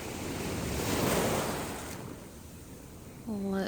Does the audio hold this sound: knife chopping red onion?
no